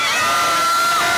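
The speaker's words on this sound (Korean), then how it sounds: "국정원에서 함성 발사!" A street crowd outside the National Intelligence Service raises a loud, sustained cheer at a busking performance, voices blending into a continuous roar.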